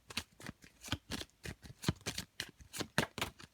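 Tarot cards being shuffled by hand, a quick run of crisp riffling bursts in an irregular rhythm, close and clear with no talking.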